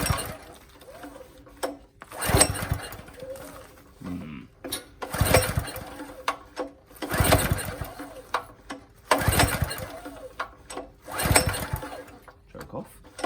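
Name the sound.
hydraulic power pack engine being started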